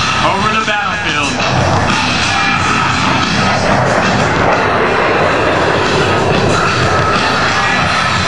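Twin A-10 jet engines roar loudly at an airshow demonstration in Branson, a sustained broad whine and rumble dominating while an announcer talks over it.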